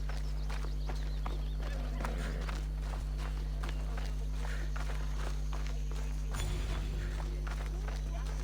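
Steady hollow clip-clop of horse hooves walking at an even pace in Assassin's Creed Odyssey, with game ambience under a low hum and a brief burst of noise near the end.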